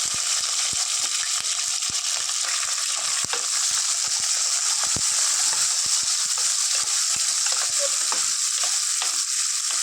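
Two onions and about ten green chillies sizzle steadily in hot oil in a pan, a dense continuous hiss broken by light scraping and clinking from stirring, with no talk.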